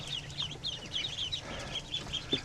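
Newly hatched ducklings in an incubator chirp with rapid, high, repeated peeps, several overlapping in an uneven rhythm at close range.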